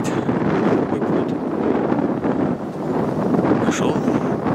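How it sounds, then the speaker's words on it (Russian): Strong wind blowing outdoors in open spring wetland, roaring steadily against the microphone for the whole stretch with gusty swells and no talk. "поднялся ветер"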